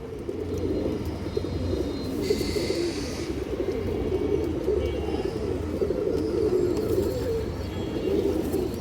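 Domestic pigeons cooing continuously in a loft, a steady layered murmur of low throaty coos from several birds close by, with a few brighter chirps and a brief higher call partway through.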